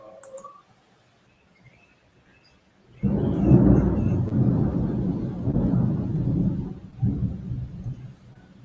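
Thunder rumbles during a storm, a low broad roar that builds suddenly after near silence and rolls on for several seconds, swelling again near the end.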